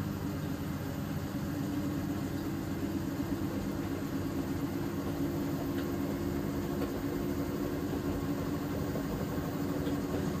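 Siemens IQ700 and Samsung washing machines running a mixed-load wash with the intensive option in a kitchen, giving off a steady, dense low hum and churning rumble that holds even and unbroken throughout, with no talk.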